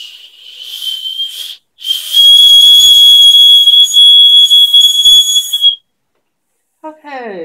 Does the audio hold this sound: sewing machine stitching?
no